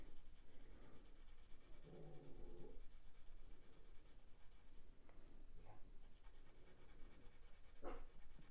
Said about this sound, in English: my little dog